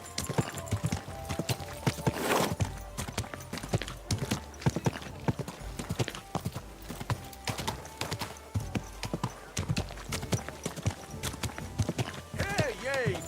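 Rapid, continuous clip-clopping of horse hooves from the game Kingdom Come: Deliverance II, loud and close, with a brief neigh-like burst and a voice speaking in places.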